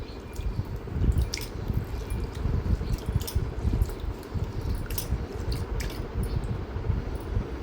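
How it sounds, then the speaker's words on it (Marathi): Rice and lentils being washed by hand in water, a continuous close squishing and sloshing with soft drips, steady throughout with no voices. "आधी मी हे स्वच्छ धुवून घेते तांदूळ आणि डाळ दोन पाण्याने धुवून घेणार आहे"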